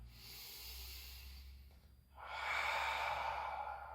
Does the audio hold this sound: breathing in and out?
yes